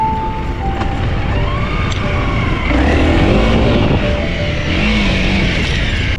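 A Honda CRF 300L motorcycle engine revs and drones steadily nearby, with rising and falling pitch as the throttle changes and wind noise underneath.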